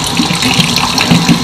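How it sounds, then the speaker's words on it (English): Water pours steadily from a tap as a small child's hands are washed, a loud, close, continuous splashing rush with no talking. "Let's wash your hands."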